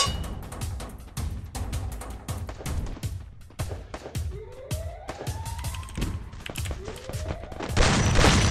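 Rapid bursts of gunfire in a Roblox shooting game, sharp and repeated, with wailing siren sweeps and a voice talking over the action.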